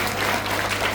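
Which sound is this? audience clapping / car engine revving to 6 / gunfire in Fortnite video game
audience clapping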